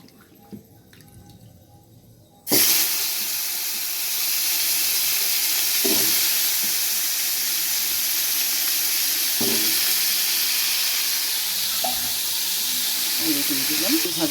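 Potatoes drop into hot oil with dried red chilli, and a sudden loud sizzle bursts out and then holds as a dense, steady hiss close by, broken by a few light clicks and stirs.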